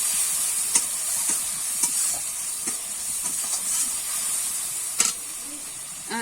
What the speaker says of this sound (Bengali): দিয়ে কিন্তু মশলাটা ভালো করে কষিয়ে নেবো